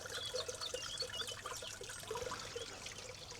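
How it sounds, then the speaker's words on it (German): A splashing water feature fountain on a riverside promenade by the Rhine at Remagen, its steady trickling and pouring running continuously at moderate distance with no voices. "Schön so Wasserspiele, nicht wahr?"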